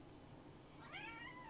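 A house cat gives a single short, squeaky meow partway through, faint against steady background hiss in a quiet room.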